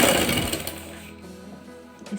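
Sewing machine stitching a trouser curve, a brief loud rattling burst of stitching that fades into a quieter mechanical hum and stops near the end.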